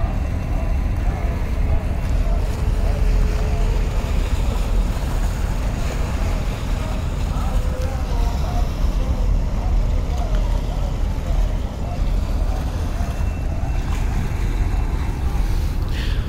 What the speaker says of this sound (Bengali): সমস্ত লঞ্চ একসাথে ঘুরে যাচ্ছে।